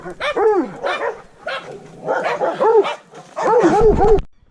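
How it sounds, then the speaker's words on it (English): Dogs in a mountain village in the Andes of Colombia barking in three bursts of rapid, close, loud barks, with brief quieter gaps between the volleys. "any other dog yakking away"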